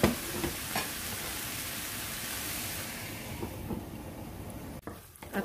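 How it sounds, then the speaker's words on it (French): Mushrooms with salt sauté in a pan, giving a soft continuous sizzle that thins out toward the end and ends with a couple of brief knocks. "puis je vais les faire revenir aussi pour quelques minutes, jusqu'à ce que les champignons soient cuits"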